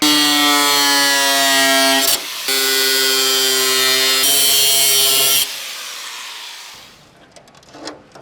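A power tool fitted with a cutting blade grinds into a Series 1 Land Rover bulkhead in loud, buzzing bursts, pausing briefly twice before spinning down and fading out.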